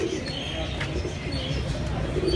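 Pigeons cooing in a pigeon-keeping loft, soft low murmuring coos repeating under faint background chatter and a little chirping, fairly quiet overall.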